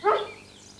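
Rusty, a farm dog, gives a single short bark that is close and clear, then fades quickly into quiet.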